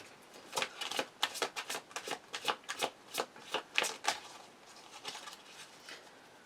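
Tarot cards riffled and shuffled by hand at close range, a quick irregular series of crisp papery flutters and snaps, clear and alone against a quiet room.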